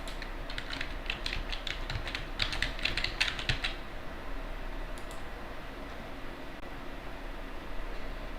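Quick, light keystrokes on a computer keyboard while setting up software, a burst of close clicking for about four seconds over steady fan-like hiss, then a few scattered taps.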